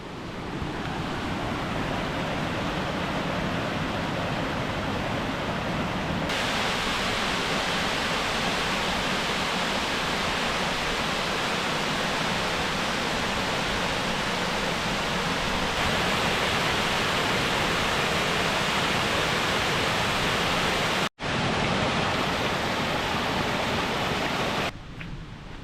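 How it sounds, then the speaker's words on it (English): Cleddon Falls, a waterfall above Llandogo village in the Wye Valley, roars as a steady, loud broadband wash heard close, with wind buffeting the microphone and a brief dropout near the end. "this is where we arrive at the top of Cleddon Falls, a wonderful waterfall directly above Llandogo village"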